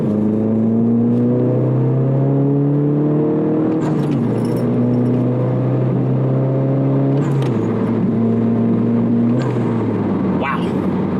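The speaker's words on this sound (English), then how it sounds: "So that was a nice quick stroke all the way to 6th gear" A turbocharged car fitted with a JB1 tuner and HKS blow-off valve pulls hard in sport mode with traction control off, engine note climbing steadily and dropping at each quick upshift, three or four times, loud and close throughout.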